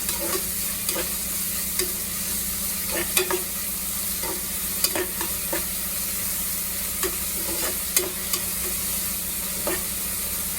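Onions frying in hot oil in a pan for homestyle chicken biryani, a continuous sizzle broken by sharp scraping clicks of stirring every second or so, close up with no talk.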